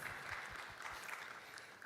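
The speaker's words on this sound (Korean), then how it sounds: "하나님께 영광의 박수 올려드리겠습니다." A church congregation at a Sunday youth worship service claps in a steady patter of applause, moderately quiet and fairly even throughout, with no voices over it.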